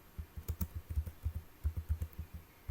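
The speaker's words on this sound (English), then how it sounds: "So we type docker" Rapid, light clicking of computer keystrokes as a command is typed, about two dozen quick taps in an uneven rhythm, close and fairly quiet, with no voices.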